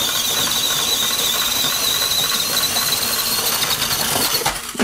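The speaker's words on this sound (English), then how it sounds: "I think if I give it a little bit of throttle, I might be able to bounce it up here." An Axial SCX24 micro RC crawler with a 1967 Chevy C10 body whines under throttle on a crawler course, a loud steady electric motor squeal that rises briefly near the end.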